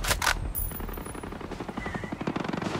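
A sniper rifle firing in the video game Ghost Recon Breakpoint, one sharp loud shot at the start followed by rattling, echoing game sounds.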